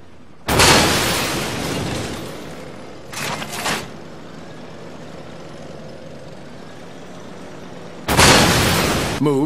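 In the tank game BattleLine, tanks are destroyed with sudden loud explosive blasts, one at the start, a short burst partway through and another near the end, over a steady engine rumble.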